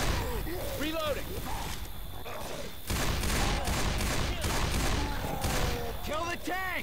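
Rapid gunfire in the zombie shooter Left 4 Dead 2, set at a dark carnival, with continuous shooting and crashes while players talk over the din.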